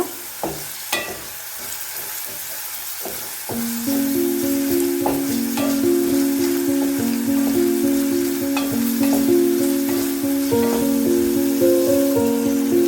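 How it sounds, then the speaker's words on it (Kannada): Chopped onions frying in hot oil for onion rasam, a steady close sizzle that swells louder partway through, with occasional stirring clicks and no talking. "ಈರುಳ್ಳಿ ಚೆನ್ನಾಗಿ ಬೇಯಬೇಕು"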